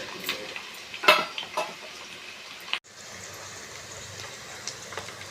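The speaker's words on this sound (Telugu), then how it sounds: "తర్వాత కట్ చేసుకున్న పచ్చిమిర్చి, ఆనియన్ వేసుకొని కొంచెంసేపు ఫ్రై అవ్వనివ్వండి." Green chillies and chopped onion fry in oil with curry leaves, giving a soft close sizzle. A few stirring clinks of a utensil on the pan come early, then a brief break before the low frying hiss continues.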